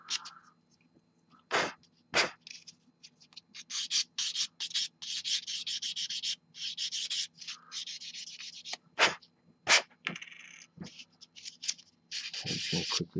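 Repeated rubbing strokes of sandpaper against a plastic wheel from a Meng WWToons Tiger tank model kit, close and steady, in short bursts with brief pauses between.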